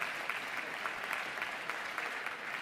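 Steady applause from a crowd during a site visit to the MeerKAT and SKA-Mid telescope site, heard faint and distant with a continuous patter of clapping.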